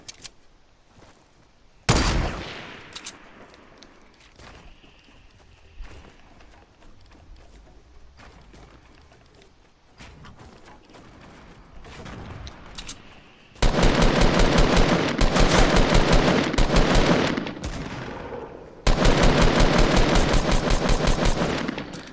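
Rapid automatic gunfire in the Fortnite Battle Royale video game: a sharp shot near the start, scattered shots, then two long, loud sustained bursts of close-range fire.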